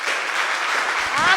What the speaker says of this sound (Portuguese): Uma salva de palmas para o nosso Senhor Jesus